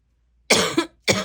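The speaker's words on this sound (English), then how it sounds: "Pardon my cough." Two sharp, close coughs in quick succession, the first with a rough rattling tail, after a moment of silence.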